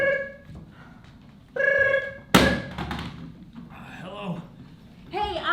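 A telephone rings in two bursts, with a thud between them and soft rustling around it, indoors, then a voice answers near the end.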